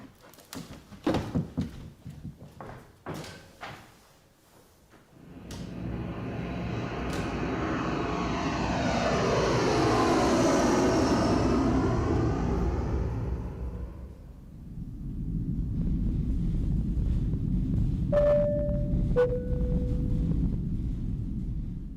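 Airliner engine roar in flight as a radio drama effect, rising from a low rumble into a loud sustained drone that swells, dips slightly and continues steadily, with faint tonal chimes near the end.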